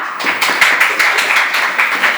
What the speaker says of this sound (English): A big clap for Mamta.